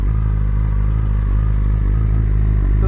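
A BMW S1000RR fitted with Akrapovic headers and a stock muffler revs loud and close, a continuous heavy engine roar held steady throughout without talk.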